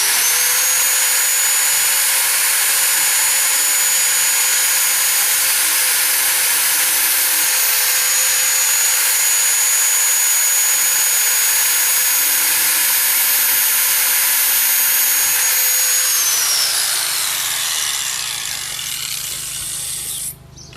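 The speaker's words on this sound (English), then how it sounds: "Probably should never take a grinder or cutter like I just did to cut this kind of stuff" A grinder cuts and trims material with a loud, steady, high-pitched whine that holds for most of the time, then drops in pitch and winds down at the end.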